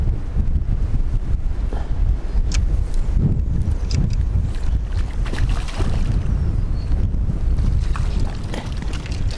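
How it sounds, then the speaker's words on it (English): Strong, steady wind roars across open water, buffeting the microphone with continuous low rumble and gusts, with faint splashing beneath. "That shows you how windy it is."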